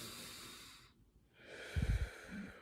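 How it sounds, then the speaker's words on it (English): Slow, deep breaths drawn in and pushed out close to the microphone, a soft airy inhale followed by a heavier, rougher exhale with no one speaking. "Take some deep breaths."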